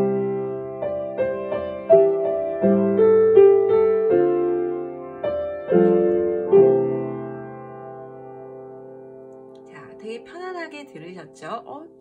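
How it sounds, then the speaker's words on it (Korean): Acoustic piano plays a diatonic reharmonization of the Korean folk song Arirang. Sustained chords and a melody ring out close and clear, with a little pedal noise, then a voice speaks as the last notes fade. "저희 집 어쿠스틱 피아노가 조금 페달이 뻑뻑 소리가 나서 노이즈가 생기는데 이해 부탁드리고요"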